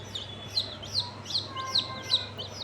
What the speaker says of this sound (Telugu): ఈరోజైతే కోడి పిల్లలు అయితే తీసుకొచ్చినాం